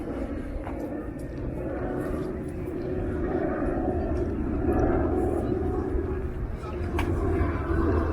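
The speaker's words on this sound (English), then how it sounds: "the airliners are quite low as they make their approach to the airport" An airliner flying low on its approach to Toronto Pearson Airport near York University, a steady, loud engine roar that swells slightly over several seconds, with talk over it.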